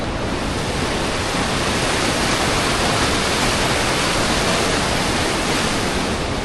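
A Croatian waterfall and rushing water roar in a steady, dense wash of broadband noise, loud and unbroken throughout with no voices.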